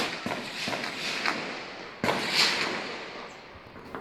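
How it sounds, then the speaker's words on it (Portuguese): Sharp bangs of gunfire from a shootout in the Complexo do Alemão favela in Rio de Janeiro's north zone, recorded by residents: a few cracking reports with echo, heard from a distance, the loudest just past the midpoint, with no talk. "A troca de tiros foi registrada por moradores da região."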